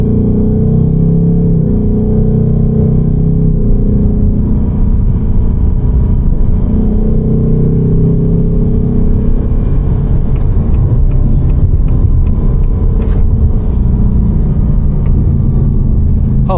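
A 2025 Ford Mustang GT (328 kW, 450 hp V8) heard from the driver's seat as it drives, with a steady loud low engine rumble and road drone that swells slightly under light acceleration, without talk.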